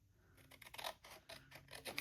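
Paper for a scrapbook page being cut with scissors, a quick series of close, faint snipping and slicing strokes in an uneven rhythm.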